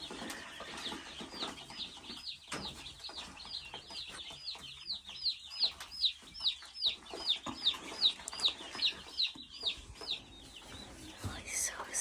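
Pet chicks held in the hand at home, cheeping in a rapid run of high, thin peeps that grow louder midway, with soft voices and handling noise around them.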